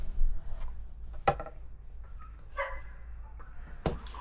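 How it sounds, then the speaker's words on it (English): A dog barks outside, a few sharp, separate barks spaced out over a few seconds, fairly faint against a quiet room. "My dog is barking outside."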